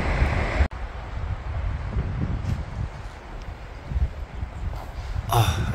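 Wind gusts across the Everis Jeju golf course, buffeting the microphone with uneven low rumbles and a steady breathy hiss, broken by a brief dropout and a sharper gust near the end.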